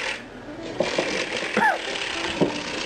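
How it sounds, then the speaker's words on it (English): An old-fashioned hand-cranked mixer churns pumpkin bar ingredients, giving steady ratcheting, geared mechanical whirring with a few sharper clicks and squeaks, close by. "So we're going to use this old-fashioned mixer."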